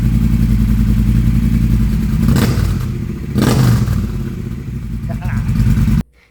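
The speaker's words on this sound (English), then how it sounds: "I don't want to leave you hanging with that exhaust." A Triumph Bonneville T120 motorcycle idles with a steady, loud, close exhaust rumble, rising in two short revs before cutting off abruptly near the end.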